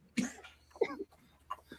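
A man's coughing fit, several harsh, separate coughs in short bursts with brief pauses between them, fairly close and alone with no talk.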